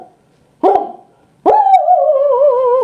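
A person imitates a dog barking: one short gruff bark, a pause, then a longer, drawn-out howling bark, loud and close with no talking.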